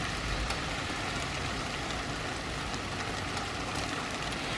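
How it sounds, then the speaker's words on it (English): Rain falling as a steady, dense hiss of drops that continues evenly from start to end with no voices. "as the rain begins"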